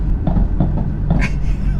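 Exhaust pops crackle from a tuned BMW M4 F82 running around 550 bhp: a handful of sharp, irregular bangs over a low engine rumble, close and fairly loud.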